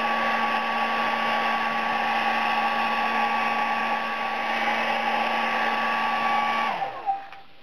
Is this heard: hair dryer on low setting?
yes